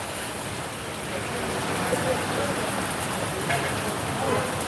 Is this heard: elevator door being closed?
no